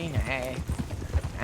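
Horse hooves clip-clop in a steady rhythm in the video game Red Dead Redemption 2, heard under overlapping talk from people nearby.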